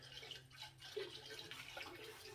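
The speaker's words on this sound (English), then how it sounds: "Uh-oh, we got fizzle." Muriatic acid fizzes in water while descaling a hot water coil: soft, steady fizzing and bubbling, faint and continuous with small crackling pops, close up with no talking.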